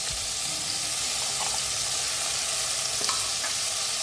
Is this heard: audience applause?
no